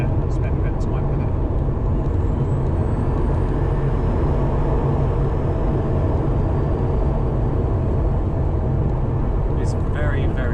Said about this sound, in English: I think there's enough of a noise of the motor to keep me engaged